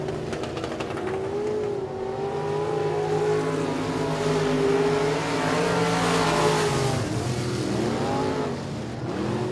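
Race cars roar around the oval at Sabine Speedway during a regular race program, engines loud and continuous with rising and falling revs as cars pass close by, no talk.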